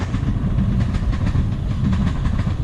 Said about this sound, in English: There's one there, one coming up right behind it. I hope they're on separate tracks.